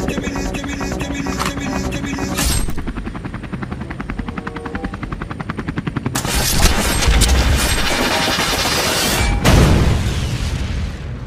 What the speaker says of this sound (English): this is helicopter Skibidi